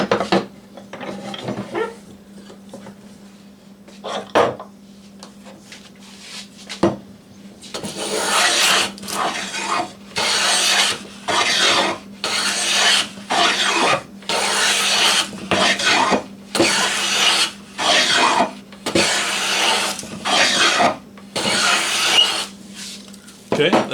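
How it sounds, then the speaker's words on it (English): Rough, rasping strokes of a hand plane cutting crossways across wood on an adapted Harbor Freight Windsor workbench, about a dozen loud, steady back-and-forth passes after a few quieter scrapes and a brief voice at the start. "that's pretty rough action when you're hand planing crossways on the table"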